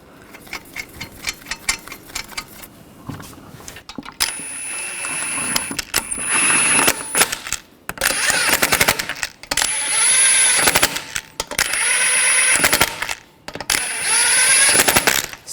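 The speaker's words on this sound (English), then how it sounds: "Install the wheel. And put the lug nuts on." Lug nuts are spun onto a wheel of a 2003–2008 Subaru Forester during a front brake job, with an irregular series of close metallic clicks and ratcheting bursts separated by brief pauses.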